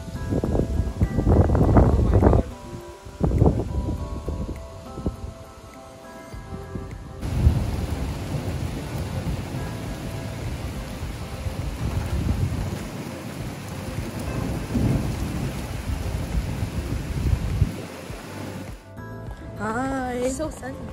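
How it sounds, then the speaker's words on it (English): Thunderstorm of rain and thunder on a windy, warm day. Steady rain hiss runs throughout with deep rumbling swells, loud bursts near the start, and a voice briefly heard near the end. "There's gonna be a thunderstorm."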